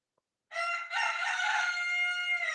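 A rooster crows once after a brief silence, a loud, sustained cock-a-doodle-doo that rises and holds steady, heard alone with no talking.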